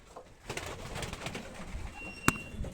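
Pigeons coo softly indoors in a pigeon room, low murmuring calls overlapping with faint rustling and one sharp clack near the end.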